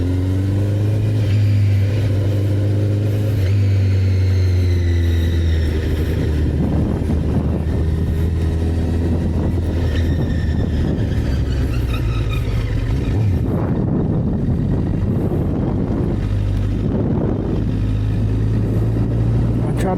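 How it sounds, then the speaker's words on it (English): A Honda CBR1000RR Fireblade superbike pulls hard on a seaside test ride. Its engine drones loud and constant, rising and falling in pitch as it accelerates, with wind rush throughout. "Cbr1000 Fireblade. Oh my goodness, the takeoff is there."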